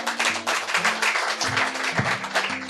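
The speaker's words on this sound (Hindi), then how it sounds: "एक तो आपके लिए जोरदार तालियां" Audience clapping at a live Hindi poetry recital, a dense, steady wash of many hands under music, continuous for a few seconds.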